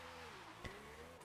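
A Ferrari in the racing game Forza Horizon 5 drones steadily at highway speed, its engine note sliding down and then climbing again as it shifts gear, with a brief sharp bump near the middle.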